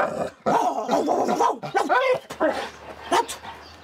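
A dog barks and yips during animal training, the sharp calls mixed closely with a person's voice speaking commands nearby.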